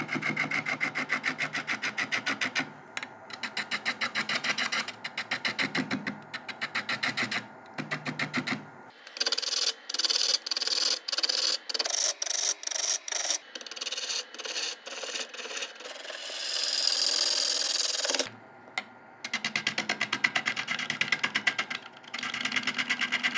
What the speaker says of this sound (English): So 16mm gouge, first thing we need to do is flatten off the bottom here.